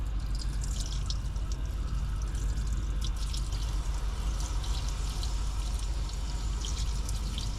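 Lukewarm water pours steadily into the radiator of a 1950 Dodge Meadowbrook in a continuous splashing rush, close by, with no pauses throughout.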